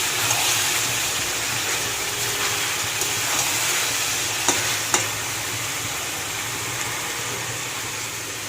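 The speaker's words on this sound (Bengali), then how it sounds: "জল দিয়ে দেবো।" Chicken cooking in a pan for gondhoraj chicken, a steady broadband sizzle with occasional stirring scrapes and a couple of sharp clinks near the middle; a sustained gush-like wash suggests water going in, no voices.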